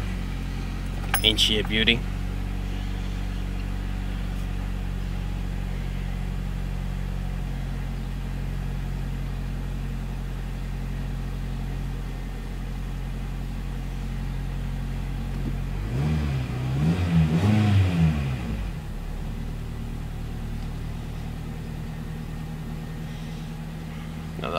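Keys jingle briefly before the starter cranks a '96 Toyota Corolla's 4AFE 1.6L engine with automatic transmission to a cold start, then it settles into a steady, slightly high idle; someone speaks briefly.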